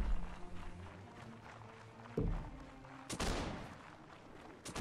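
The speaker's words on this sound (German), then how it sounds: "Rumspacken, ihr werdet beschossen." Gunfire crackles during a military exercise, with several bursts and sharp reports close by over a noisy background, the loudest burst coming late.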